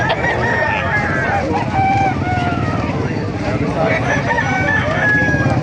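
Several roosters crow one after another over a steady low rumble, with people talking in the background at a chicken market in Calumpit, Bulacan.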